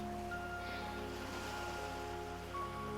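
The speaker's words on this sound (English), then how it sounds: "And this divine rainfall that's falling" Light rain falls steadily on a beach, a soft continuous patter with no voices, joined by a faint steady hum.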